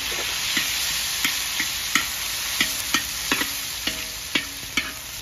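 Onion and tomato fry in a pan for a Shan-style stir-fry, a steady bright sizzle broken by regular scraping clicks from a utensil stirring every half second or so.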